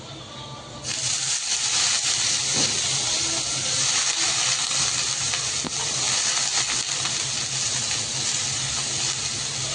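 Cluster beans (guar) drop into a hot pan of chili spice mix, setting off a sudden loud hiss that holds as a dense, steady sizzle close by.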